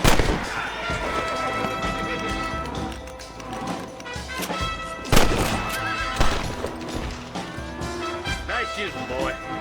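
Gunfire in Red Dead Redemption, a few sharp loud shots amid horse whinnies and hoofbeats, with a voice talking over parts of the action.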